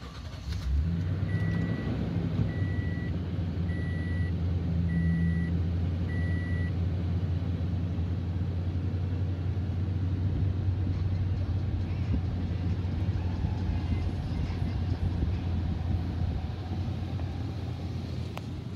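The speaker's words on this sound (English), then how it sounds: "I'm gonna go ahead and start it up for you." A 2015 Toyota Tundra 4x4 pickup truck idles steadily with a deep, even engine rumble after starting up, close and continuous, with faint intermittent beeping early on.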